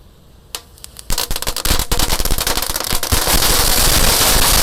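Rapid bursts of firecrackers, laid in a circle inside a culvert, crackling and popping, starting with a few scattered bangs then building into a loud, dense, continuous barrage.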